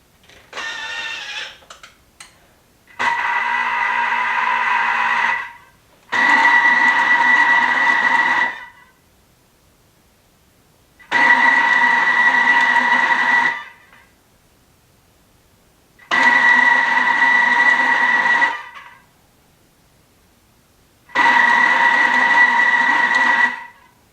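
A Thermomix kitchen machine kneads bun dough in steady loud bursts, about five runs of whirring motor sound of two to three seconds each, separated by short quiet pauses.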